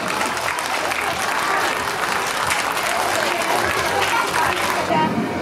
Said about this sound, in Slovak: Veľký potlesk pre materskú škôlku.